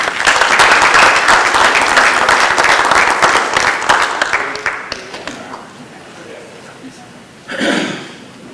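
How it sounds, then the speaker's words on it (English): Applause fills a city council meeting in Waynesville, Missouri, a dense burst of clapping that fades out after about five seconds, followed by a short murmur of voices near the end. "Let's give them another round of applause."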